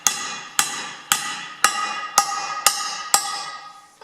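A hammer strikes the end of a socket while a Ferguson FE35 tractor's rear axle housing is being prepared: seven sharp, ringing metallic blows at an even pace about half a second apart, close and alone.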